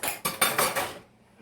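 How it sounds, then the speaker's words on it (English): A metal whisk clatters rapidly against a pot while gravy is made on a stove, four or five quick close scraping strikes in a burst before falling quiet. "But let me use my whisk."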